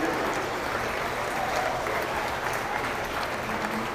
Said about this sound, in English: let's give all these young folks another round of applause